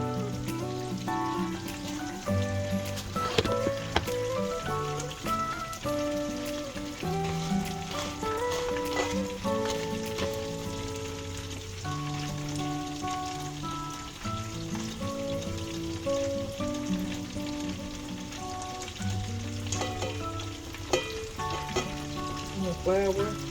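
Parmesan chicken cutlets frying in a skillet, a steady crackling sizzle running throughout beneath prominent background music, close and moderate.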